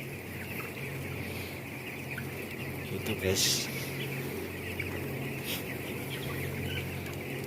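Chickens in a colony cage coop cluck softly and continuously in the background while a person speaks briefly in Indonesian over the steady farmyard noise.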